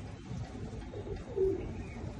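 Fancy pigeons at a home loft giving a low, soft coo with one brief clearer phrase over a dull, steady background.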